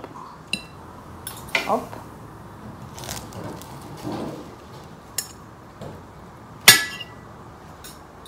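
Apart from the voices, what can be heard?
knife cutting meat on a plate, cutlery clinking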